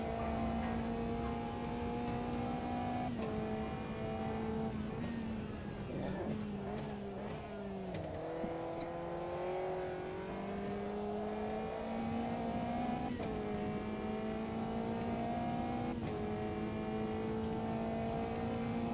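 A race car engine in a sim racing video game, rising and falling as it accelerates and shifts through gears, a steady droning whine held fairly loud throughout.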